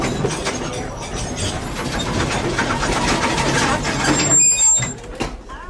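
Walt Disney World Railroad steam train halted at the outpost water stop, giving off a steady loud rumble and hiss with faint mechanical clanks throughout, no voices.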